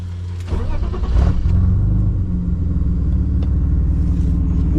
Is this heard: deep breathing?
no